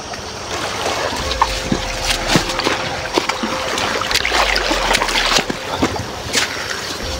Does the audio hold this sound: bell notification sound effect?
no